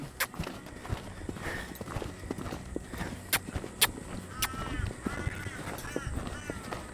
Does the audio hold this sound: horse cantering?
yes